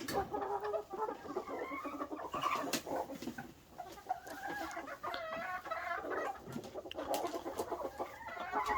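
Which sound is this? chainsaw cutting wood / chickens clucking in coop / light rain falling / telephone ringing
chickens clucking in coop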